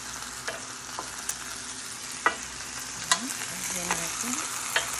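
A T-bone steak fries in a pan with a steady close sizzle, punctuated by a few sharp clinks and stirring or handling noises, with no talking.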